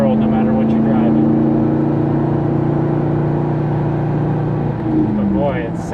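A 2002 Chevrolet Corvette C5 Z06 in Quicksilver Metallic gives a loud, steady engine drone while driving, heard up close throughout with no clear rise in revs.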